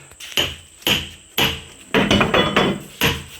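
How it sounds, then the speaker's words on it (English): A series of sharp, loud metallic hammer strikes on a wedge driven into a log, close by, spaced unevenly with a quick cluster of blows in the middle. "get some wedges and a hammer"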